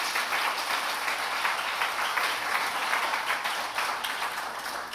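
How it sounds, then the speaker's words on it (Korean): Congregation applauding steadily during a Friday church worship service, a dense continuous wash of many hands clapping at even loudness throughout, with no other sounds standing out. "우리 주님께 영광의 박수 올려드리겠습니다"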